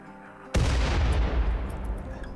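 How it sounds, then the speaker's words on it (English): A mortar firing in RimWorld: a single sudden deep boom that rings out into a long rumbling decay lasting nearly two seconds. "he is shooting the mortar"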